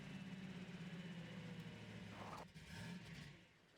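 The buggy's engine in Half-Life 2 runs at a steady, rough, throaty drone, with a brief dip and shift in tone partway through before it settles back to a constant rumble.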